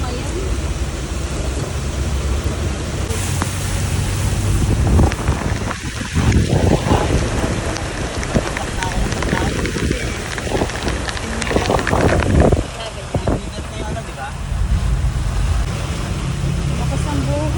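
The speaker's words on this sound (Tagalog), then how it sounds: "Tingnan nyo, napakalakas ng ulan." Heavy typhoon rain roars in a dense, constant wash at a market, with gusty wind noise buffeting the microphone and voices talking now and then.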